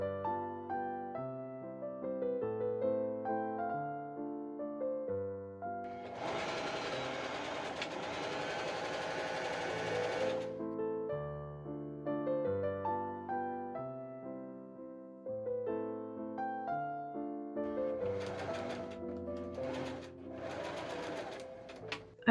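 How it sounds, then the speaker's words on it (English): A sewing machine stitches a bodice lining in short bursts, starting and stopping several times. Its steady mechanical whir plays under a tonal musical backing. "I machine sew the bodice lining up."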